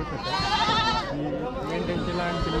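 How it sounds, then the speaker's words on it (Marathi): Young sheep and goat kids, one to three months old, bleat close by at a large livestock market, their cries overlapping with wavering calls and background murmur. "ही मेंढ्यांची पिल्लं आहेत आणि इकडे शेळ्यांची पिल्लं आहेत बघा"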